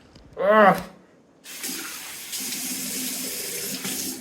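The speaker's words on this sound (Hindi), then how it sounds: "the water is back if you can hear it" Water gushes steadily from a household tap into a sink, a continuous hiss that starts abruptly and runs on at moderate loudness after a brief voice.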